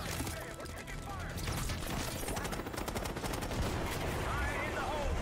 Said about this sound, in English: Hey, we're taking fire!